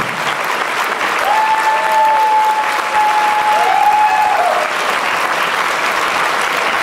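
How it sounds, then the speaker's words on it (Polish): Loud, sustained audience applause at a charity concert fills the whole stretch, with a faint whistle-like tone gliding briefly over the clapping. "Wielkie brawa."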